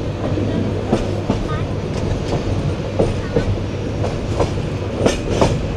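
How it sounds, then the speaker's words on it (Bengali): Jayantika Express passenger train rolling through Kharchapur station, a steady rumbling drone with regular clickety-clack wheel beats over rail joints recurring every second or so, heard from on board. "আমাদের ট্রেন এই মুহূর্তে খরচপুর রেল স্টেশন পার হচ্ছে।"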